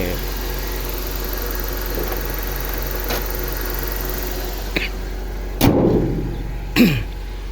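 A 1997 Toyota Corona Exsior diesel engine idles smoothly and steadily at close range, with a low constant rumble and no stumbles, broken by a couple of brief louder bumps near the end.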